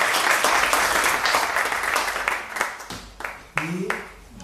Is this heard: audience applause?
yes